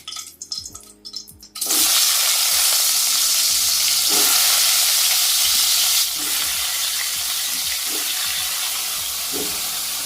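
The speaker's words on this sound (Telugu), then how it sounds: "ఇప్పుడు ఈ మష్రూమ్స్ అందులో వేసుకుందామండి." Mushrooms dropped into hot oil for a mushroom masala curry, a sudden loud hiss of frying that bursts in after a brief moment of handling and keeps sizzling steadily, with occasional spoon scrapes against the pan.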